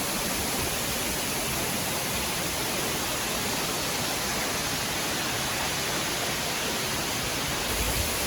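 Sekumpul waterfall in Bali roaring close by, a loud, constant, broadband rush of falling water that fills the whole clip without pause.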